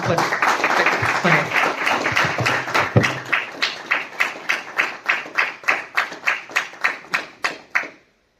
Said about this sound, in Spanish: vamos a cerrar la mesa redonda dándole, por favor, un aplauso y muchas gracias a estos